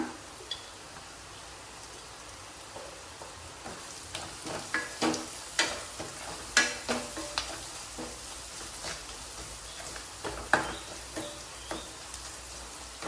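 Spices crackle and sizzle in hot oil for an oggarane tempering, with a soft continuous fry broken by sharp popping bursts and a few stirring scrapes, heard close and alone.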